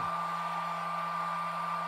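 HTRC T240 Duo balance charger running noisily, its cooling fan producing a steady, loud whir with a constant tonal hum underneath, close up and with no talk.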